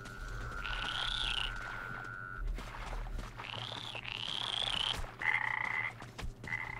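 Toads in the video game Metro Exodus croak in drawn-out, warbling calls that overlap and repeat, loud and near against a faint ambient background.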